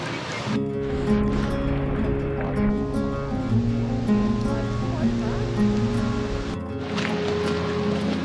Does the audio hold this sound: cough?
no